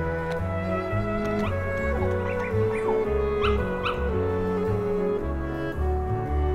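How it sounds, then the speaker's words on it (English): Dalmatian puppies in Kingdom Hearts yip, bark and whimper in high, short bursts over continuous looping game music with a steady bass line, the puppy sounds fairly faint beneath the score. "Look at all the Dalmatian puppies."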